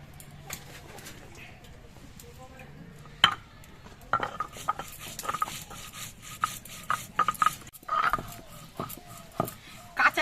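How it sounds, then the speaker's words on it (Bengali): A spoonful of raw cumin seeds is ground into a paste, with irregular scraping, rubbing and knocking strokes that grow busier over time and faint background voices. "আমি এক চামচ কাঁচা জিরে বেটে নিচ্ছি"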